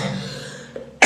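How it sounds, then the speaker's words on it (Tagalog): A single dry cough from a woman who has been sick with a lingering illness, close and sharp, ending the quiet breath before it. "Parang hindi na normal na ubo."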